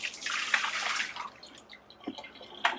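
Water poured out of a Dreo countertop water filter reservoir, a close splashing rush for about a second that tapers into a few scattered drips.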